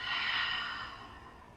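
During a children's yoga breathing exercise, a single soft, drawn-out exhale through the mouth fades away gradually, close and alone, with no talking.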